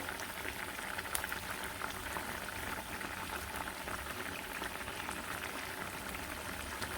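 Fish fry in hot oil as a soft, continuous crackling sizzle with scattered pops. The sound is fairly faint and even throughout, with no talking.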